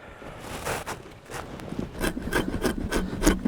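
A drawknife scrapes along a Siberian cedar log in repeated rasping strokes, each pull a dry, close woody rub that grows louder and more frequent toward the end, with no talking.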